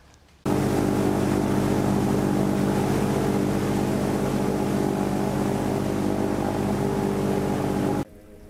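A boat motor drones steadily through a Miami swamp, a loud, close, continuous engine hum with a buzzing tone that starts abruptly and cuts off after about eight seconds.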